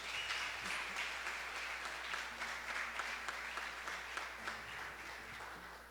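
A church congregation applauds the Lord loudly, a thick sustained wash of many hands clapping at once that holds steady for several seconds before easing slightly, with no speech over it.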